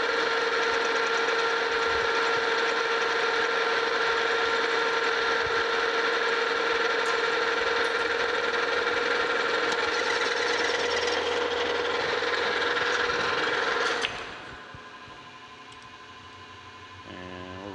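A metal lathe turns steel down to a shoulder, with a steady, sustained mechanical whine and hum running for about fourteen seconds before it abruptly drops to a quieter low drone. No voices.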